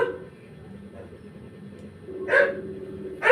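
A dog barks twice, in short loud bursts near the end, over a quiet room with a low hum during a home livestream.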